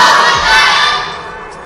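A large crowd at a religious sermon roars a loud, sustained takbir chant in unison, a dense wall of voices that swells and then slowly eases off.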